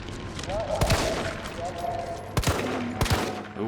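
Gunfire from Resident Evil 3 Remake: three sharp game gunshots ring out at irregular intervals over a busy background of in-game music and voice, each blast loud and punchy against the ongoing mix.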